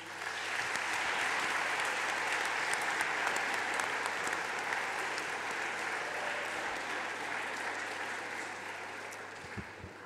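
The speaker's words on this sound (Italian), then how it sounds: "l'applauso ora lo fate a loro" A school audience of students applauds their teachers at the opening of a Latin-themed meeting, steady dense clapping filling the whole stretch and tapering slightly toward the end.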